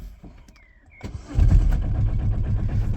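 An Aixam City GTO microcar, started in neutral, cranks and catches about a second in, settling into a close, steady low idle after a brief electric whine beforehand.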